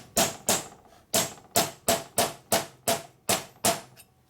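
A hammer strikes a seal driver on an S&S 113ci Evo Harley-Davidson motor about a dozen times in a steady, fairly quick rhythm, each blow sharp and close.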